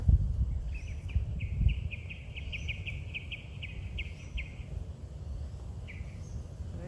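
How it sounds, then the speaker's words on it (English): Birds chirp in outdoor nature in Bali, a quick repeated series of high tweets followed by a lone call, faint and distant over a low rumbling background. "maybe you can hear some birds"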